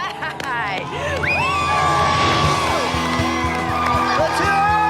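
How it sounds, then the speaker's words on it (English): A crowd of excited, very young children screams and yells together, loud and continuous, with high whoops and shrieks rising over a dense mass of voices. "All of these kids were so excited, and they were screaming and they were yelling."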